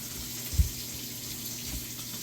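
Water runs from a faucet into a kitchen sink with a garbage disposal, a steady soft rushing stream with a brief low thump partway through.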